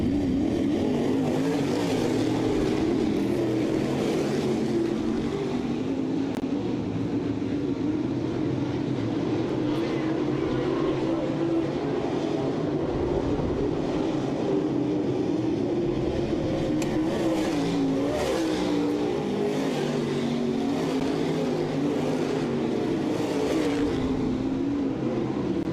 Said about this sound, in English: green flag in hand, ready to go as we roll on through heat race number 1